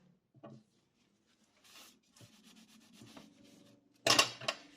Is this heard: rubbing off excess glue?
yes